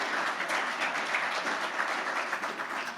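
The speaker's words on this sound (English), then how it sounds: "One more time, a round of applause for everyone." An audience at a pitch competition finale gives a round of applause, a moderately quiet, continuous patter of many hands clapping throughout with scattered sharper claps and no speech.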